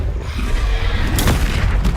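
A heavy booming blast from the Confringo spell in the Hogwarts Legacy video game, loud and dense with a sharp burst in the middle of continuous rumbling noise.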